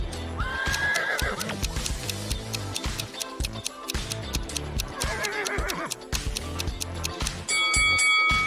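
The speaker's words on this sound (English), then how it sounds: "And whose horse is this?" A horse whinnies loudly in bursts over a busy background of music and clattering effects, the neigh rising and falling near the start and again midway.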